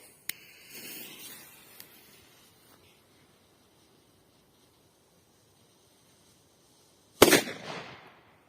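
A sharp firecracker bang early on, then a quiet stretch before a second loud, crackling burst from a JC05 firecracker near the end that fizzles out.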